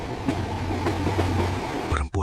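A train rumbles along its rails with a heavy steady grinding of metal wheels, a constant low drone for about two seconds before it cuts off abruptly, used as a ghost-train sound effect in a night horror story.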